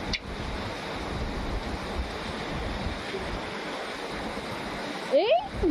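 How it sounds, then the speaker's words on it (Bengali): Steady, dense hiss of rain pouring down outside, close and unbroken, with a brief voice and a rising whistle-like sound near the end. "হ্যাঁ, বৃষ্টি চলে আসলো।"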